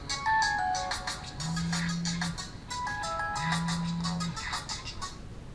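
Phone ringing with an incoming call: a repeating electronic ringtone melody in two bursts, moderately loud, over faint background noise and no speech.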